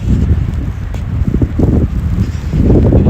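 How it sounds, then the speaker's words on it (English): Steady wind buffets a microphone during a run through the first snow of the year, a loud, continuous low roar with gusty swells that rise toward the end. "now that the wind has shifted and it's more of a side crosswind now"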